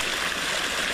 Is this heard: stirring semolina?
no